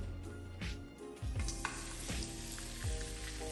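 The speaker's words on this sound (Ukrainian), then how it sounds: "На розігріту олію викладаємо картоплю." Potato wedges frying in hot oil with a steady loud sizzle, punctuated by a few scraping and clattering stirs close by.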